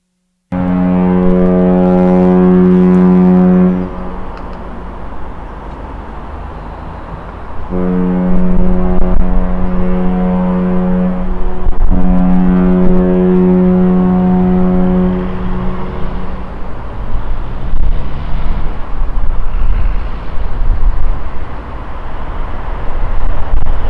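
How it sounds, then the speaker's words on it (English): The P&O cruise ship Aurora sounds her deep, loud horn while departing Southampton: a long blast, then two more sustained blasts after a pause, over wind and background rumble. "Some good honking from Aurora there."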